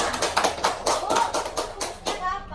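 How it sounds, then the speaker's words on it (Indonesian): A classroom group claps in a quick rhythmic pattern of about eight bursts during a microteaching lesson on arithmetic sequences, close and clear, with children's voices mixed in. "Tepuk tangan dulu udah benar semuanya."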